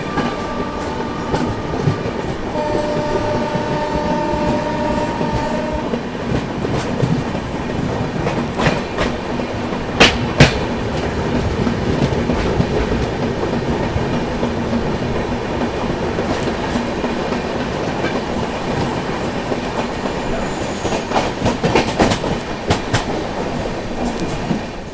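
Goa Sampark Kranti Express picking up speed on the rails, with a steady loud rolling rumble, rhythmic clickety-clack of wheels over joints and occasional sharp metallic clanks, no voices.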